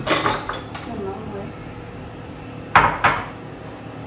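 Porcelain bowls and dishes clink in a home kitchen while a Vietnamese tapioca dumpling dish (bánh bột lọc) is prepared, with a few sharp close knocks over low background kitchen noise.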